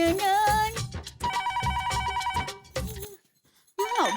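An electronic phone ringtone plays a bright melodic ring for a few seconds, pauses briefly, then starts again.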